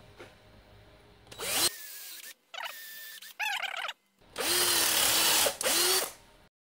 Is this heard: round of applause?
no